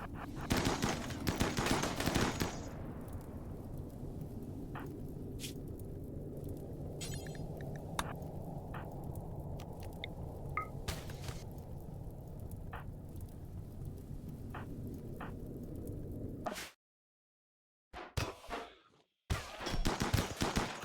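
Gunfire from the horror game Inquest of the Dead rattles loudly for the first couple of seconds, then trails into scattered faint pops over a steady rumbling ambience before the sound cuts out.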